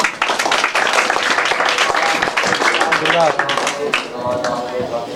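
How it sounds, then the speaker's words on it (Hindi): Applause for a student speaker, Rupam Kumari, at a coaching centre ceremony honouring matric exam results, a dense crowd clapping that sounds steadily for about five seconds and thins slightly near the end, with voices mixed in. "जोरदार ताली रूपम कुमारी के लिए भी"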